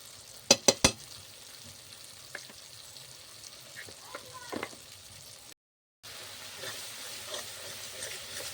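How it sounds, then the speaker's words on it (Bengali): Spice masala with sugar and salt frying for banana flower kofta curry, a soft continuous sizzle opening with three sharp metallic clanks, then scattered stirring scrapes and a brief dropout, close and without talking. "মশলা কষানো হয়ে গিয়েছে, মশলা থেকে তেলটাও ছেড়ে দিয়েছে"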